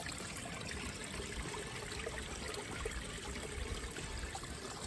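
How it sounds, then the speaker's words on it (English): Creek water trickles steadily through a plastic pipe set into a small hillside stream at Gooch Gap Shelter on the Appalachian Trail, a constant close babbling wash with no voices. "They put a plastic pipe into the little creek running down the hill here."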